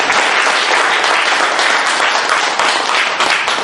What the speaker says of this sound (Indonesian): Boleh tepuk tangan buat upline kita semua.